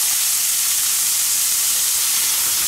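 Bacon crackles and sizzles as it roasts on a grill for shashlik skewers, a dense steady hiss close up and alone with no voices.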